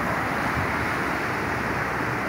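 The Quinnipiac River runs high and overflows its banks, a steady broadband roar of rushing floodwater that continues unbroken and fairly loud throughout, with some wind rumble on the microphone.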